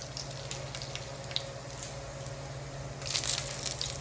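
Mustard seeds and dried red chillies sizzle in hot oil, a soft continuous crackle with scattered pops, swelling louder near the end.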